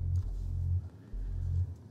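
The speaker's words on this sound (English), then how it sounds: "All right, so I'm going to add a tiny bit of FM to this, so it sounds like this." A subby synth bass tone from Ableton Operator with a touch of FM, played as repeating low sustained notes with brief gaps, fairly quiet and alone.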